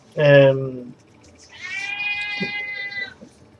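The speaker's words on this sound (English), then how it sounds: "we have a complaining cat" A cat gives a short, loud complaining meow, then after a pause a longer, drawn-out whining yowl, both close by over light background noise.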